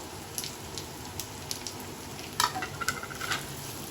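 Taro root pieces go into hot oil with garlic and curry leaves. The oil gives a soft, steady sizzle, broken by a few light stirring clicks and a brief louder crackle near the end.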